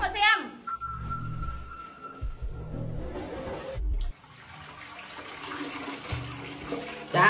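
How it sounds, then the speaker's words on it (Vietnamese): Water rushing in a home bathroom toilet, a steady broadband wash of flushing and running water with a brief break partway through, while people talk over it. "Ông vào xả nước mà xem."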